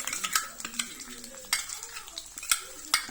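Ginger paste frying in melted fat in a pan, a soft steady sizzle broken by repeated sharp metallic scrapes and taps of a spoon stirring against the pan, close and fairly quiet.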